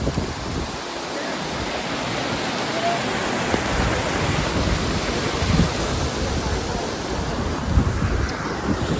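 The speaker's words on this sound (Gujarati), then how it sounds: "જો વરસાદે ફૂલ ચાલુ થઈ ગયો" Heavy rain pours steadily over a village, a dense unbroken roar of falling water with wind noise buffeting the microphone and no voices.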